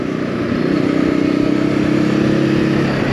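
A 2023 Voge 525 ACX A2-class motorcycle engine runs steadily close by with a continuous mid-pitched rumble, holding an even, slightly pulsing drone with no voices.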